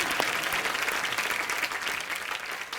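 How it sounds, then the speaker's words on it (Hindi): A studio audience at a comedy talk show applauds the arriving star cast, a loud, even wash of clapping throughout with no voices on top. "स्टार कास्ट के लिए तालियां।"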